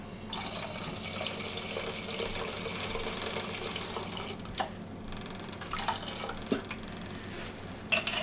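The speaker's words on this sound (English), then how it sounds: "Add some water." Water is poured into a pot of puffball mushroom soup with cream and garlic, a soft continuous splashing stream heard close up, with a few light clinks of the pot toward the end.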